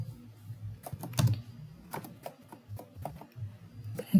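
Someone types a search on a computer keyboard, producing irregular bursts of close, quiet key clicks with short pauses between them and no talking.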